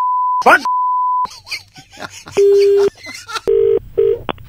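Phone dialing beeps: a steady tone, a short warbling burst, then several clear electronic tones of varying length, close and loud, with no voices.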